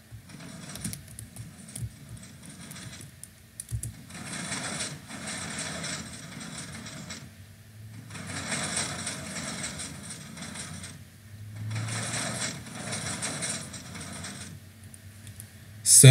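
A Minecraft penta-piston extender machine runs in repeated bursts of rapid mechanical clicking and clattering, each several seconds long with short pauses between, moderately loud and without speech.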